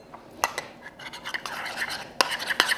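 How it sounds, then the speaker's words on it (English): A spoon stirs sweetener and vanilla into yogurt in a bowl, giving soft scraping and a few sharp clinks against the side as it is mixed quickly, close and fairly quiet. "Just mix that quickly together."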